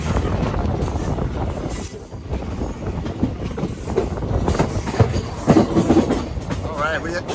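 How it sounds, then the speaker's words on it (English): Passenger train rolling along rails in rural India, with a steady rumble, rhythmic wheel clatter and occasional high squeals, heard close from an open door with wind buffeting. "This is the way to ride a train."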